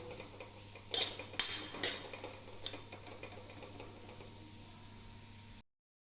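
A spoon clinks and scrapes a few times against a pan as moong dal roasts in ghee for halwa. The strokes are quiet and sparse over a faint steady background, with no voices.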